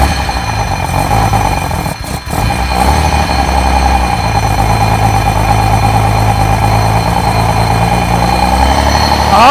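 Ferrari engine idling steadily after being refuelled, a continuous close rumble with a brief dip near the start, slight revving toward the end, no speech over it.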